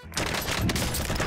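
AK-47 fire in the online shooter Warzone, with a dense rattle of rapid shots that begins after a brief pause and keeps going loud and continuous throughout.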